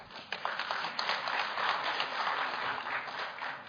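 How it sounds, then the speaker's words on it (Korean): Applause from the audience at a Korean political party forum as a guest is introduced, a dense, even patter of many hands clapping for a few seconds at moderate level. "큰 박수 부탁드리겠습니다"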